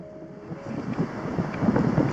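Strong wind blows across a riverside camp on the Voloma River in Karelia on a stormy morning, a steady rushing roar that swells slightly and buffets the microphone, with no voices.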